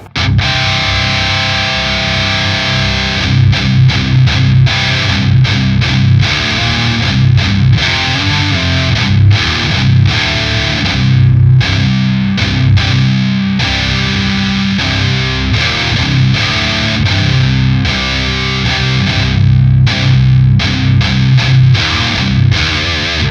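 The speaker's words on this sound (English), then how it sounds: "Now let's see what it sounds like with the red." Heavily distorted electric guitar through a REVV distortion pedal on its red channel, chugging and ringing chords, loud and continuous with a thick, saturated tone and no voices.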